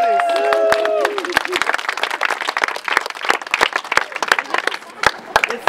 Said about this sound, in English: let's give a round of applause to the Minneapolis Police